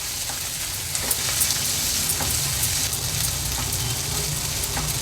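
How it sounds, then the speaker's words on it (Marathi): Thecha, a crushed green chilli and garlic paste, sautés in a pan with a pinch of turmeric, giving a loud, dense, continuous sizzle with faint ticking spatters throughout. "हळद देखील ह्या ठेच्यासोबतच परतून घ्यायची आपल्याला"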